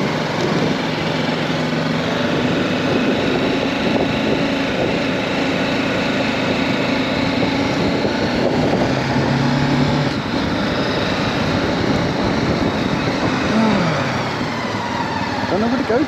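A BMW G310GS single-cylinder motorcycle cruising on a gentle country ride in Devon, its engine droning steadily at constant speed under continuous wind rumble, with a rider's voice talking over it.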